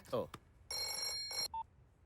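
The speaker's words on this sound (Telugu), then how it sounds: "ఫోన్ రింగ్ అవుతుందిరా" A telephone ringing in a comedy scene: two loud, bright bursts of ringing after a brief voice, followed by a short electronic beep and then quiet.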